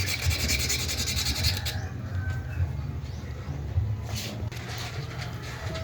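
Sandpaper rasps against a rusty metal rice cooker part, steady rubbing strokes close to the microphone, with faint birds or chickens in the background.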